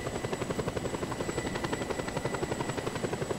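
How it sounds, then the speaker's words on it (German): Jet passing overhead in the video game Just Cause 2, a steady loud rhythmic rotor-like thrum with a constant whine above it, continuous throughout with no talking. "Da unten fliegt ein Jet."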